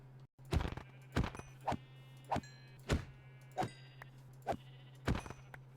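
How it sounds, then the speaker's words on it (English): Sheep in the video game Minecraft bleating repeatedly, about eight short bleats at an even pace against a steady low hum, with no talk. "I'm gonna go kill these sheep over here though"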